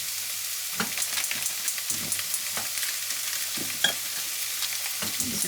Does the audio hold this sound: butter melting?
yes